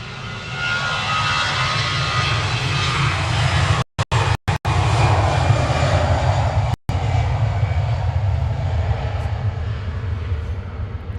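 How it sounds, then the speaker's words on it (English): Etihad Boeing 787-10 Dreamliner landing at Manchester Airport after arriving from Abu Dhabi, a steady loud jet roar with deep low rumble sustained throughout, briefly cut by a few short dropouts. "first heavy arrival of the evening coming in from Abu Dhabi. Etihad Flight 75, A6 BMI. 787-10 Dreamliner."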